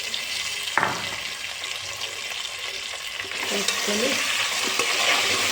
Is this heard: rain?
no